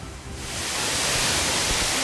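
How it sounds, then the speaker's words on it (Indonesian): The top tier of Leunsalama waterfall on Wawonii, a steady broadband rush of falling water that swells quickly from quiet to a full, even roar and holds alone. "Ini dia air terjun tingkat paling atas di mana akan ada canyoning."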